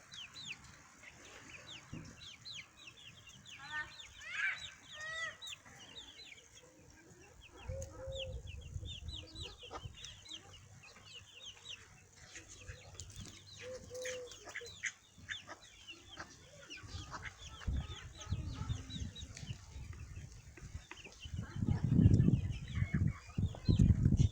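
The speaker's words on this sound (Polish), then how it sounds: "kogut, legbar, po którym są te kurki. Jest to roczny kogut." Chickens cluck and chatter nearby, with a year-old Legbar rooster among them, brief calls scattered across a quiet outdoor background that grows louder with rustling toward the end.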